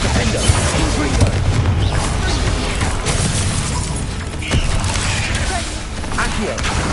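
Confringo fire-blast spells burst loudly in the Hogwarts Legacy video game amid dense, continuous combat noise with booms and crashes throughout.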